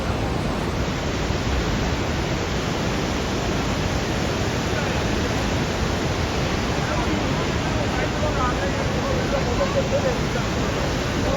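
The Saraswati river rushing near Bhim Pul in Badrinath, Uttarakhand, a loud, steady, close roar of fast water that fills the whole stretch without a break.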